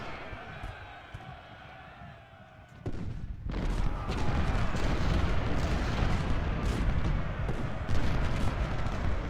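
A Civil War infantry brigade opens fire in the strategy game Ultimate General: Civil War at Second Bull Run. After a quieter start, a dense, sustained roar of massed musketry and booming battle noise surges in and holds steady.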